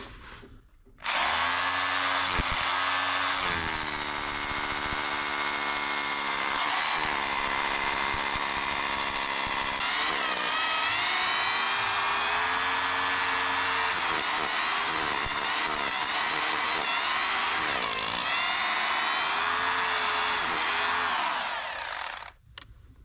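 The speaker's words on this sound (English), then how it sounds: "drilling wet mud is surprisingly hard." Power drill with a mixing paddle churning thick wet mud, a loud close motor whine running continuously for about twenty seconds, its pitch sagging and wavering under load before it stops.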